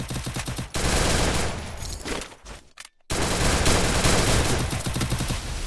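Dense bursts of automatic gunfire in a Free Fire battle royale match, loud and sustained, broken by a brief lull and a sudden silence before the firing resumes at full intensity.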